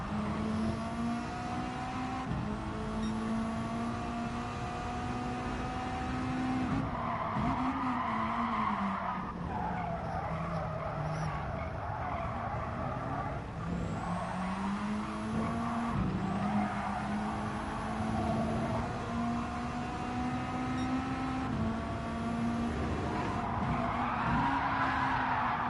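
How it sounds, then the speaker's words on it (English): Race car tires squeal and skid in Gran Turismo 7 as the handbrake is pulled, long wavering screeches over a steady engine drone, loud and continuous. "He used a handbrake there, didn't he?"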